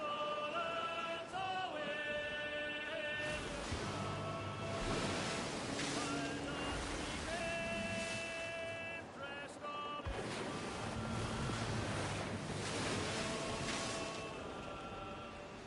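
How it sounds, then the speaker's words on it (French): Strong wind gusts and ocean surf rush steadily at sea in Assassin's Creed Black Flag, joined by tonal music, loud and continuous with swelling bursts. "Le vent est de plus en plus fort."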